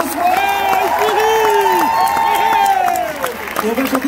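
A festival concert crowd cheers and applauds loudly, with sustained sung or shouted voices rising over the clapping throughout.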